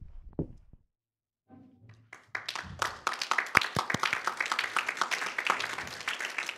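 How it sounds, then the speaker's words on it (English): Audience applause for the candidates at the 2011 Cary mayoral and town council candidate forum. A few thuds and a brief pause come first, then the clapping swells to a dense, steady round that runs to the end with no talking. "Let's give a big round of applause to all of the candidates."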